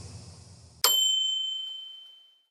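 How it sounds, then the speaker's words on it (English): A small bell gives a single bright, thin ding that rings out and slowly fades over about two seconds, cutting off a low murmuring background and sounding alone. "a small bell rang in Min's headphones"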